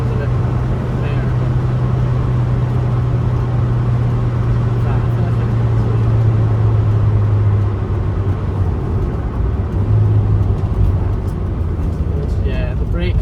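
A 1998 MGF driving: a steady engine drone and road rumble fill the cabin throughout, loud and continuous, with a person talking over it.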